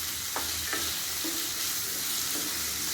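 Snake gourd sautés in hot oil in a pan for kootu, giving a steady close sizzle and crackle with a few soft stirring scrapes, continuous and even throughout, no voices.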